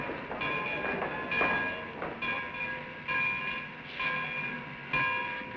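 A train pulls out of a station, rhythmic clanking and hissing pulses recurring about once a second with steady rumble, no speech.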